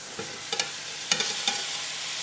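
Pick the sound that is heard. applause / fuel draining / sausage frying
sausage frying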